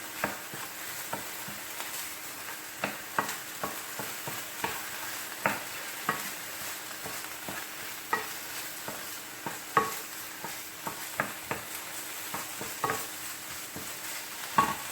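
Chicken with curry fries in a pan under a steady soft sizzle, while a utensil stirs and scrapes the pieces in frequent irregular taps and strokes, close and clear.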